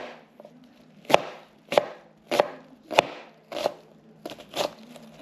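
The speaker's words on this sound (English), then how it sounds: "we're just mincing up our red onions" A knife mincing red onions on a cutting board for fish tacos gives about eight crisp chops at a steady, slightly uneven rhythm. They are close and clear, with no talk.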